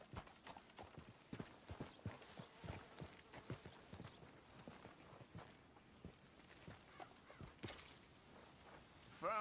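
Horse hooves clip-clop steadily in a Red Dead Redemption 2 game scene, a rhythmic walking gait of close, moderately loud hoofbeats running throughout.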